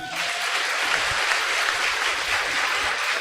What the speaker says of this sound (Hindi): आप अपने तालियां बजा दीजिए